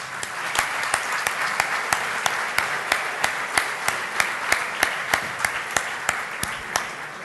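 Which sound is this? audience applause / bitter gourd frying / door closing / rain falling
audience applause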